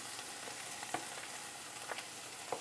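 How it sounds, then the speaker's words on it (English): Potato slices frying in a pan for German Bratkartoffeln, a steady, even sizzle throughout with a few faint clicks of stirring on top. "one pan where I will just fry the potato slices"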